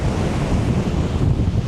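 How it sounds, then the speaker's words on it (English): Strong hurricane wind in Jamaica buffets the microphone in loud, continuous gusts, with surf roaring underneath. "it's very windy, so I know when the storm hit, it's gonna be a lot of water"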